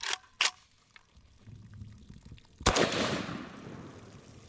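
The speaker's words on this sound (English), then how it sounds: "And now for the old AK-47." Two sharp rifle shots from an AK-47 loaded with black powder ammunition, a louder blast rolling into a long, smoky-sounding decay near the end.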